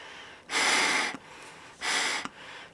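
Breathing through gas mask filters, two long hissing inhalations each roughly half a second long, close and airy, separated by a quieter pause.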